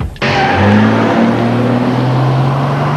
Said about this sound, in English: More like time to test this sporty engine.